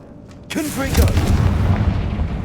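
A Confringo blast spell in a Hogwarts video game lands as a sudden booming hit after a brief hush, then a sustained heavy rumble follows, with a voice briefly heard at the onset.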